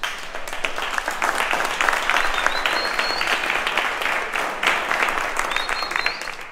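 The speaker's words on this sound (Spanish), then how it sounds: "os pido un aplauso, por favor." At a classic car rally, an outdoor crowd gives a long, steady round of applause, loud and dense throughout, with faint cheers and a high whistle or two rising above the clapping.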